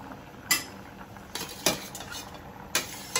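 Metal pot and utensil clatter as hilsa fish pieces go into a cooking pot: sharp clinks and knocks at irregular intervals, four or five distinct hits over a quiet background, no talking.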